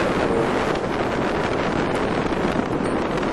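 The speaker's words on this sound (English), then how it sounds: "You've got to know what the wind's doing." Wind during a paraglider flight, a continuous loud rushing roar buffeting the microphone, steady throughout with no talking.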